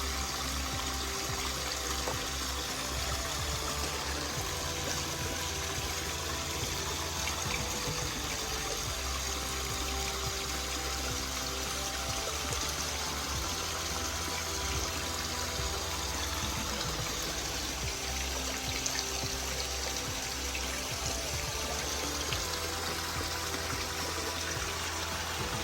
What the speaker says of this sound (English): My waterfall is still holding up okay over there.